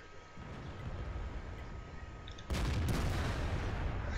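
A tank gun in World of Tanks fires one loud, close blast that cuts through a steady engine rumble and is followed by a sustained roar.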